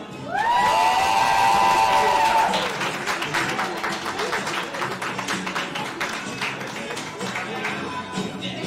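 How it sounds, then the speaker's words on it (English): Audience at a Christian university ceremony cheers and applauds an honoree, starting with a loud sustained whoop or shout, then scattered clapping and crowd noise carrying on at moderate distance. "I want everyone to give a round of applause to Dr."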